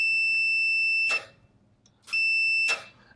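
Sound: Owon multimeter continuity beep while testing a switch

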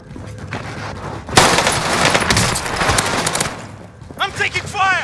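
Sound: gunfire in a video game shootout

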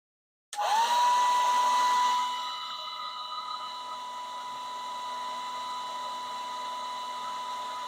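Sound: hair dryer running on high heat and high air

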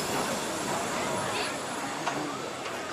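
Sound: Japanese train with 1930s-style carriages

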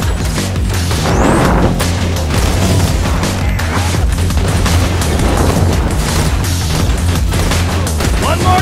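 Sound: gun explosions in Borderlands 2 video game

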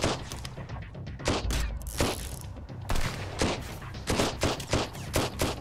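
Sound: machine gun fire in the video game Sunkenland

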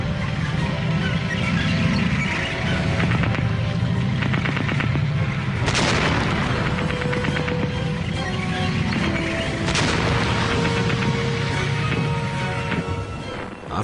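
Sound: gunfire in a World War I tank battle

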